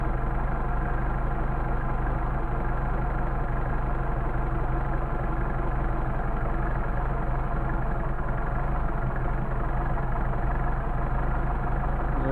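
A Mercedes 190SL engine idling on Solex carburetors during mixture adjustment, a steady, close low rumble that stays even throughout with no talk.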